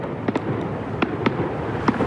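Fireworks burst over Mount Rushmore, South Dakota, during a US 250th independence anniversary celebration: about five sharp pops at irregular intervals, moderately loud over a steady low rumble of crowd and background noise.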